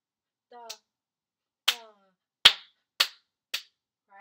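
Hand clapping a rhythm during a flute lesson, four sharp close claps spaced roughly half a second to a second apart, with brief sung syllables from a voice before and between them.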